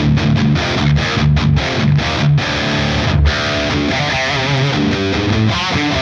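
A high-gain electric guitar riff through a Tone City Wildfro distortion pedal, with tight palm-muted chugs, stops and sustained chords in a loud, scooped metal-style rhythm that plays alone without talk.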